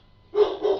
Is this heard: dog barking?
yes